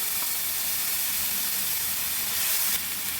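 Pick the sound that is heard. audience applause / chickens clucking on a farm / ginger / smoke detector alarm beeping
ginger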